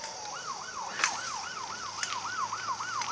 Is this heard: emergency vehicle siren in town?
yes